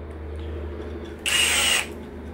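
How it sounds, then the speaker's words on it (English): Cordless drill set to drill mode whirs in one loud burst of about half a second while driving an all-in-one wood, metal and masonry screw. Steady low room hum runs before and after. "Put it back on drill mode."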